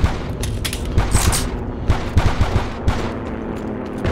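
Rifle fire in the online shooter Heroes and Generals comes as loud, close bursts of shots in rapid clusters, with distant battlefield gunfire and booms between them and no talk.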